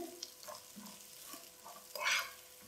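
Chopped onions fry in a tablespoon of oil in a pan over medium flame, a faint close sizzle broken by soft stirring scrapes and a brighter burst of crackle near the end.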